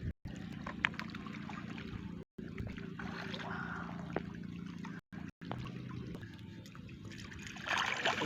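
Water trickles steadily in a clear river, a continuous close babble with a low, steady hum beneath it and a few brief dropouts.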